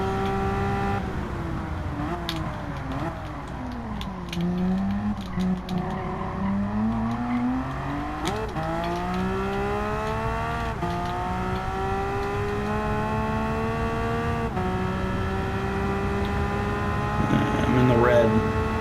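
Porsche 911 race car engine from Gran Turismo 7, a Porsche Cup car, droning steadily and rising and falling through gear changes for the whole stretch, with a brief louder push near the end.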